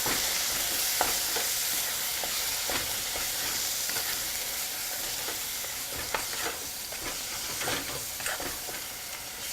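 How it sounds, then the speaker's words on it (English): Dry spices with coriander powder sauté in a hot pan, giving a soft, steady sizzle and hiss with scattered light scrapes from stirring. The sound is fairly faint, with no talk. "You have to saute this till the raw flavors from the dry spices is gone."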